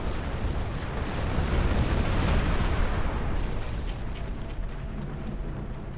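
A rolling explosion from the space video game Star Trek Online, a dense, sustained rumble of booming bursts that stays loud throughout.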